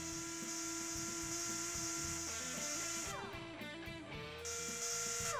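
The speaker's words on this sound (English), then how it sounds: "then make a hole in the screw head with a twist drill." A twist drill bores into the head of a stuck, oiled screw, giving a continuous high whine that shifts in pitch as it cuts, with a grinding undertone and no talking.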